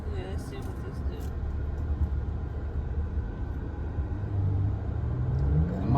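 Jeep Grand Cherokee accelerating in sport mode from inside the cabin, a steady low engine and road rumble that swells louder toward the end as the revs climb, with people talking over it.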